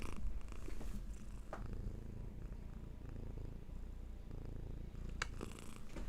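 A cat purrs close by, a soft continuous rumbling purr that runs steadily throughout, with a few faint rustles and no talking.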